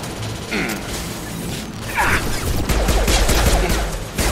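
Rapid gunfire from the video game Mass Effect 2 in a dense, loud fusillade of overlapping shots and mechanical clatter during combat.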